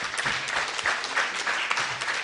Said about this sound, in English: So we really need to give him a very, very loud round of applause,